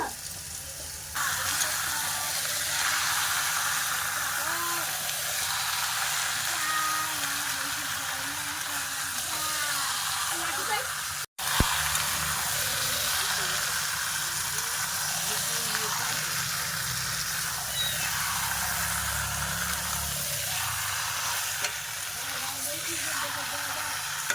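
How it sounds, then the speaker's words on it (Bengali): Meat sizzling and frying with spices in a pan, a steady close hiss with soft stirring scrapes throughout, one brief sharp knock midway, and a voice talking over the cooking. "এই যে দেখো মাংসটা কিন্তু খুব সুন্দর করে কষা হচ্ছে"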